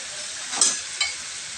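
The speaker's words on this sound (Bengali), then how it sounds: "ভালো করে নাড়তে থাকবো।" Pieces of meat stirred through a frying spice paste that has begun releasing its oil, two quick scraping stirs over a close, steady sizzle.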